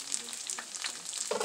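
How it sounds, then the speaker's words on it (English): Buffalo chicken egg rolls fry in oil with a brief, close crackling sizzle and small pops, no talking. "we're going to let these fry on up"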